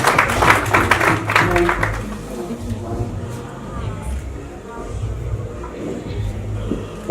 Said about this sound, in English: Once more, a round of applause for Allen Gishu